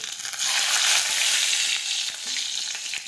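Dried garlic, mustard seeds, cumin and chopped chillies sizzle loudly in hot oil, a bright continuous hiss with scattered pops and crackles close by, and no talk.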